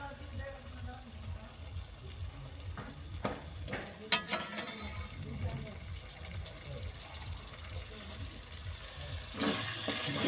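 Whisked sour yogurt poured into spices frying in a pan and stirred, giving a steady sizzle with scraping stir strokes and a sharper splash partway through. No one speaks.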